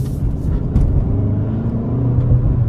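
A 2025 Kia K5 GT sedan in sport mode gives a steady, loud low engine rumble from inside the cabin. The drone stays even throughout with only slight swells, and nobody speaks.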